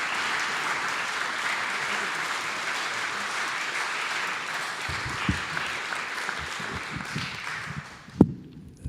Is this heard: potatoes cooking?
no